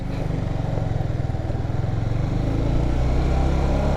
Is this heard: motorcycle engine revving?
yes